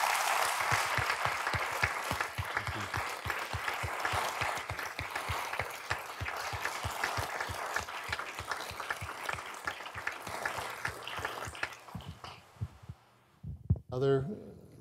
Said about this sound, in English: I think Susan actually deserves a great round of applause for her service.